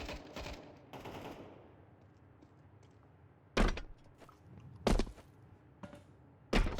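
AK rifle fire in a video game: an opening burst of rapid shots, then three sharp, loud bursts spaced a second or more apart over a low, quiet background.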